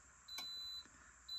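High bilge alarm on a boat, set off by a float switch wired to a Victron Cerbo, sounds as a steady high electronic beep tone, one long beep and then a second starting, with a faint click between them.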